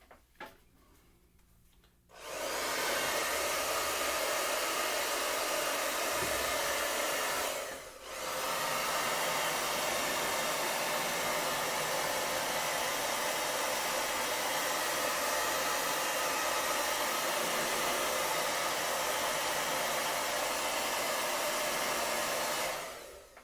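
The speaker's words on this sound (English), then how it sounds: "Okay, hair dryer. Let's dry this out a little bit." A hair dryer blows over a freshly painted watercolor, starting after a brief quiet moment and holding a steady, close whir for about twenty seconds, with one short dip around the eighth second.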